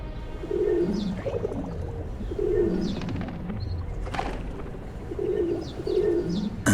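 Pigeons coo near a riverbank beach, repeated soft low rolling coos in a steady rhythm, fairly close, with faint chirps and a brief flutter of wings in between.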